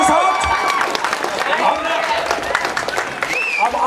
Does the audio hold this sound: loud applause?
yes